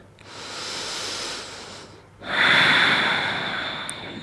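Two long, deep breaths during a yoga stretch, a softer drawn-out inhale followed by a louder, rushing exhale, close and steady with no talking.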